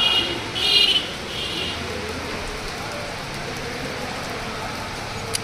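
Rain falling steadily outdoors during the delivery of a new 2024 Suzuki Swift car, a dense, even hiss of drops on surfaces filling the whole stretch, with faint background activity.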